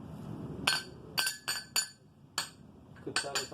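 Thin aluminum intake tube from a VRSF dual cone intake for a BMW N54 being tapped, giving bright metallic clinks in irregular clusters of quick knocks, close and fairly quiet.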